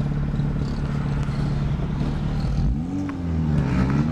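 A Fiat Stilo 1.8 16v turbo with a forged engine idles steadily, then its rpm rises and falls as the throttle is blipped near the end, close and continuous with no talk.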